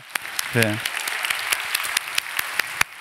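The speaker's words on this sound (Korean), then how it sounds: "팀장들한테 우리 박수 한번 쳐주면 좋을 것 같아요" A church youth congregation claps for a blessing team and its leaders during a sermon, scattered claps ringing out after a short burst of voice.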